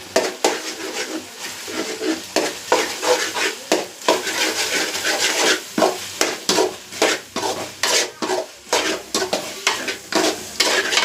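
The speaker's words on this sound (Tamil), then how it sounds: "நல்லா கிண்டி விட்டாச்சு." Noodles seasoned with pepper stirred briskly in a pan over raised heat, a steady run of close scraping and clattering strokes against the metal over a light sizzle, with no talk.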